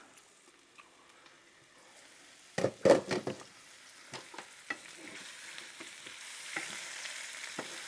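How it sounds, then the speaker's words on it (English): Potatoes frying in a pan on a stovetop, quiet at first, then a burst of loud scraping and sizzling as they are turned, followed by a steady soft crackle with occasional clicks. "Now this ain't normally the way I fry taters"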